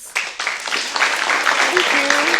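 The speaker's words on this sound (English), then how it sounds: "let's give the speaker a round of applause" A science café audience bursts into a round of applause for a speaker, a dense wash of clapping that swells and holds steady while voices murmur underneath.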